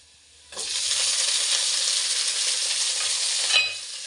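Garlic and onion hit a hot pan and burst into a loud, steady sizzle that holds close and even for several seconds after a quiet start, with a faint stir near the end.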